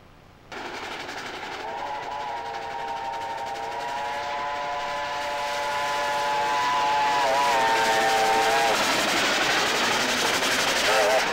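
A steam train rumbles steadily, with a long multi-tone steam whistle sounding for several seconds over the chugging, then fading as the train noise grows louder.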